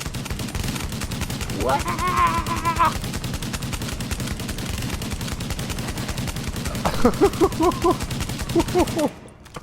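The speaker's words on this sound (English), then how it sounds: "Oh, that's how you use a shotgun." Shotgun blasts in The Division, a third-person shooter game, booming repeatedly over dense game noise and music, with a player's voice talking in bursts between the shots.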